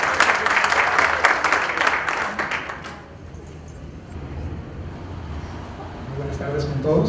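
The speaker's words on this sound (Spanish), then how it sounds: "Aplausos al doctor, por favor." Brief applause from the audience at a national notarial conference, clapping in the opening seconds before it gives way to room noise and a voice.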